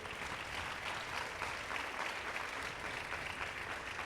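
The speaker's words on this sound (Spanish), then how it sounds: "Si va a aplaudir, apláudale a Cristo." Steady applause from a congregation during a Sunday church sermon, dense and continuous throughout at moderate volume, with no distinct speech over it.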